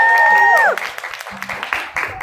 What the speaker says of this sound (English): So let's again give a round of applause for that.